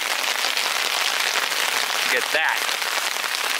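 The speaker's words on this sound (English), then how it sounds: "It's hailing like a motherfucker again." Hail pours down steadily during a thunderstorm in the Desolation Wilderness near Lake of the Woods, a dense, even hiss of ice striking the ground and gear close by, with a brief spoken remark partway through.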